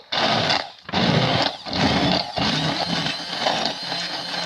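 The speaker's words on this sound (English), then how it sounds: "my immersion blender, and I'm just going to" An immersion blender purees tomato chickpea soup in a pot, a loud continuous whirring grind broken by a few short pauses as it is lifted and plunged again.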